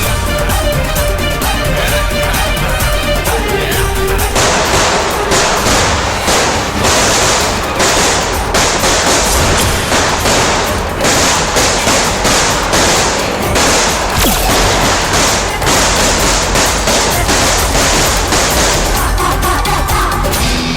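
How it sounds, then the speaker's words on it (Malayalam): Firecrackers go off in a loud, dense barrage of rapid cracks and bangs that runs on for about twenty seconds, harsh and close, with almost no pause between the reports. "പടക്കത്തിന് തീ കൊളുത്ത്."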